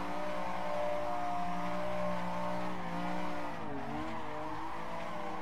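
A drifting car in Assetto Corsa chasing a lead car, its engine droning steadily with sustained tire squeal, the pitch bending and dipping through transitions, loud and continuous with no talk.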